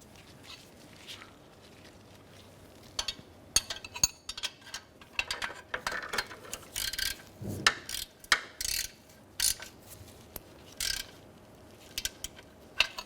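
A ratchet snugs up exhaust manifold bolts on a 2011-2016 Hyundai Elantra, giving several bursts of rapid clicking close by, separated by pauses and light handling noises, with no talking.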